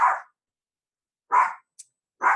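Dogs bark in three sharp, well-spaced barks with a tiny yip between the last two, each short and fairly close against an otherwise quiet background.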